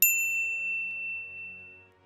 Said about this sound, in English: be sure to subscribe to our channel and ring the bell to get notified about our latest videos